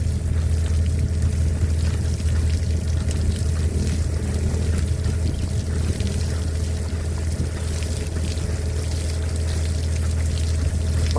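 Water rushes out of a 2-inch PVC pipe from a 100-foot deep well in a strong, continuous gush, with a loud low rumble running steadily underneath throughout.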